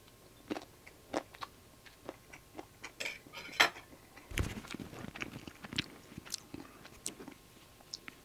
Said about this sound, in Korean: 자, 일단 위에 있는 거 초콜릿부터 한번 먹어보고요